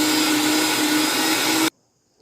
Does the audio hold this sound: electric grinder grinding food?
yes